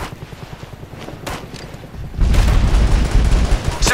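Gunfire in the video game Operation Flashpoint: Red River, a sparse crackle of distant shots that swells after two seconds into a loud, dense barrage of booming, rapid fusillade fire.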